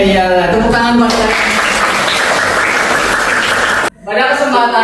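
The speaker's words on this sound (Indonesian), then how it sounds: "tepuk tangan buat saya" A classroom of students claps hands together in a loud burst lasting about three seconds, set between stretches of a teacher speaking before and after.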